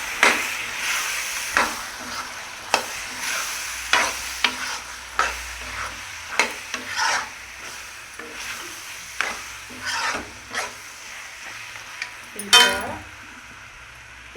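Green chicken gravy sizzles in a pan while a spoon stirs it, with regular scraping knocks over a steady frying hiss, close up.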